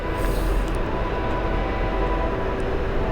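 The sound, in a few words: train passing through town near Rockaway Beach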